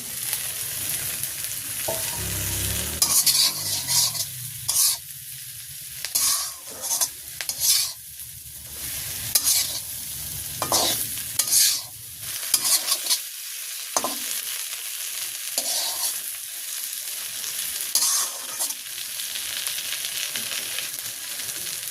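Egg cooks with eggplant for begun bhaji in a village kitchen pan, a steady close sizzle broken by repeated bursts of spatula stirring and scraping, with no talking.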